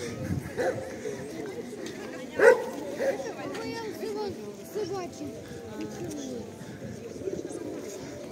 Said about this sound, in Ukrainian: Як собаки гавкають